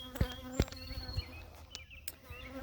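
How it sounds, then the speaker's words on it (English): Bees buzz steadily around an opened hive during a quick hive check, a close, droning hum with scattered sharp knocks and handling noises over it and no talk. "You can tell there's still bees everywhere"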